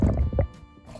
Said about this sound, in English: Place the blueberries in a bowl of cold water first.